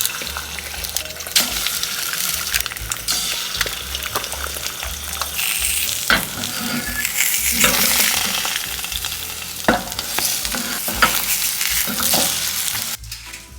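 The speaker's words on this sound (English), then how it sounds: "I will just quickly fry these up in my handy dandy designated egg pan" Eggs sizzle and crackle steadily in a small designated egg pan, a close, continuous frying hiss with occasional pops and scraping stirs.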